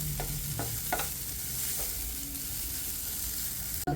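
Whole cloves, cardamom and cinnamon stirred in hot oil in a pan, a soft continuous sizzle with a few short scrapes of the spoon, close and fairly quiet.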